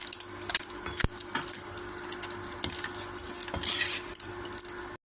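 Fried fish lifted out of hot cooking oil in a home kitchen, with a steady sizzle of frying beneath scattered clinks of utensils against the pan and a sharp knock near the start.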